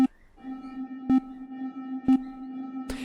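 A sound design demo sounds a pure synthetic tone held steady, broken by three sharp clicks and a final burst, with a reverb tail that follows after a brief pre-delay.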